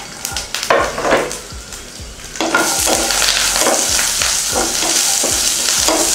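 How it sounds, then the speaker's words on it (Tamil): Chilli, tamarind, garlic, onion and coriander sautéing in a little oil for chutney, crackling loudly as a spoon repeatedly scrapes and knocks the pan, the sizzle swelling after the first couple of seconds. "ஒரு 1/2 ஸ்பூன் எண்ணெய் ஊத்தி இருக்கேன் அதுல மிளகாய் புளி பூண்டு வெங்காயம் மல்லி கருவேப்பிலை போட்டு"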